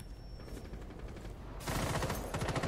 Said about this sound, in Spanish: ¿Estás disparando tú, Stratus?